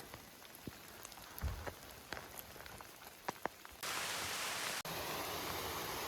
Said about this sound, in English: In the rain, we fully geared up for it.